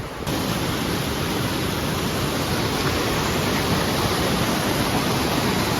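River water rushes steadily at a rocky trail crossing on the Pacific Crest Trail, a loud continuous broadband roar close by with no voices.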